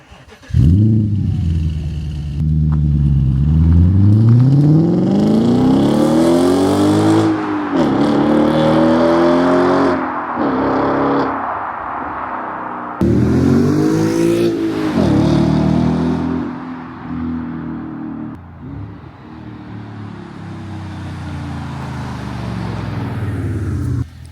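A V8 Audi S5 with an aftermarket exhaust revs hard and roars through loud, sweeping drive-bys, pitch climbing and falling as it accelerates past, with no talking over it.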